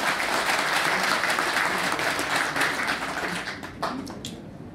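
A hall audience applauds a private-taxi women's volunteer group at an inauguration ceremony, a steady dense clapping that holds for several seconds, then thins toward the end with a few louder individual claps.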